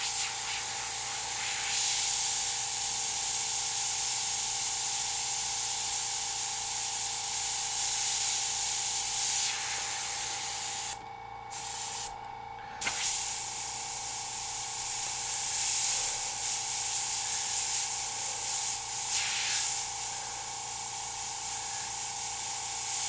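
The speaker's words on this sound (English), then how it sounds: "I'm gonna start doing a mix of airbrush" An airbrush sprays paint onto a copper sheet with a steady, continuous hiss that runs almost without a break, pausing briefly twice, loud and close.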